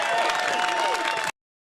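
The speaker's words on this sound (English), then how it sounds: "Did you hear that applause?" Crowd applause and cheering from a press conference setting, a steady dense wash of clapping and voices that runs for just over a second and then cuts off abruptly.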